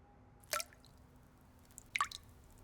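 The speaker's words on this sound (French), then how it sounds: "Maman, le robinet coule." Two distinct water drips from a leaking faucet land about a second and a half apart, quiet and close, with a faint hum underneath.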